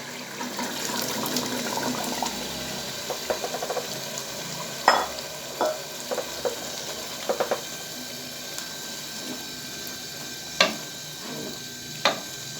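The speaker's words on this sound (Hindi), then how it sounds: "आधा किलो चने जो मैंने ऑलरेडी बॉईल कर लिए हैं वो इसके अंदर मैं ऐड करने लगा हूँ" Boiled chickpeas being stirred and sizzling in frying masala in a pan over a steady frying hiss, with scattered clinks and scrapes of a utensil, close by.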